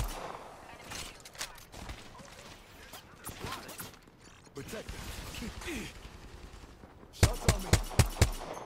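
Rapid automatic gunfire in an Apex Legends ranked match, with sporadic shots under a player's talk, then a loud close burst of several sharp shots at the end.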